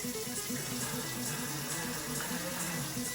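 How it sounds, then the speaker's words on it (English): Tap water runs steadily into a sink as hands are washed before cooking, a constant close splashing hiss that stays level throughout with no voices. "I'm getting ready to cook, so I'm going to wash my hands."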